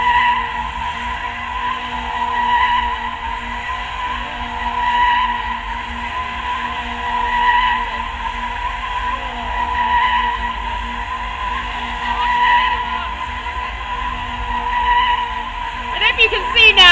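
A stunt car spins repeatedly at a Silverstone stunt show, tyres squealing in a regular rising and falling pattern over a steady engine, with a commentator talking over it.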